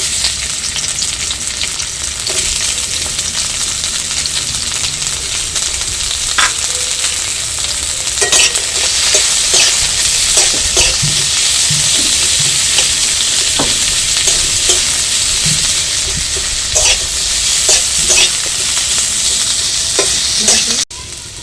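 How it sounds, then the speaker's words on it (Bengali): Onions sizzle steadily as they fry in a wok, with frequent scraping stirs and clinks of a spatula standing out over the continuous hiss for the whole stretch. "আমি পেঁয়াজটা ভেজে নেব।"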